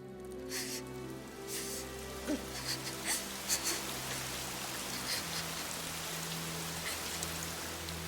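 Steady rain in the Fire Emblem: Three Houses video game patters under soft sustained music tones, with scattered louder drop-like taps throughout.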